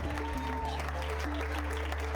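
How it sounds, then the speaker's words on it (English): A live audience gives brief, fairly faint applause, a steady patter of clapping lasting about two seconds. "This is probably the dumbest thing that you clap for somebody."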